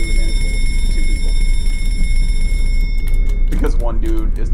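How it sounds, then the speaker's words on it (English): A ringing alarm in the video game Escape the Backrooms sounds loudly and continuously for about three seconds, then cuts off as players talk over it. "Okay, I'm gonna ring mine again."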